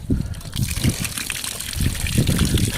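Water sprayed over the walls of a house under construction during washing, heard as a steady close hiss and trickle with uneven low splashing bursts throughout.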